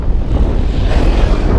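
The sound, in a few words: strong wind while cycling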